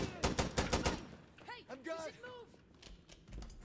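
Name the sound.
M1 Garand rifle gunfire in video game Insurgency Sandstorm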